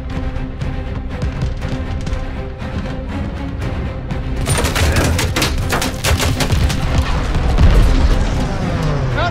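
Tracer gunfire during a bombing run in Call of Duty Vanguard, with a steady engine drone beneath that gives way to rapid bursts of shots and heavy booms, loud and close, under radio chatter.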